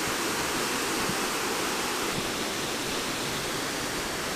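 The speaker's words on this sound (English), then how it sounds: "So that's the twin waterfall there." A twin waterfall on the Isle of Mull gives a dense, steady rushing roar, broad and unbroken, heard from nearby with no voices.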